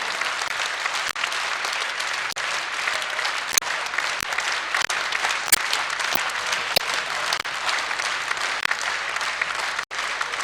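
A theatre audience gives warm, sustained applause to ashugh folk performers, many hands clapping in a dense, even roar with a few sharper claps standing out, close and steady for the whole stretch.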